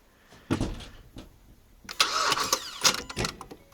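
A car engine cranks in short bursts on ignition with a booster pack connected, making a few rough, uneven turnovers and clunks at a salvage yard. No one speaks.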